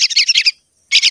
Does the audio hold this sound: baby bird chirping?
yes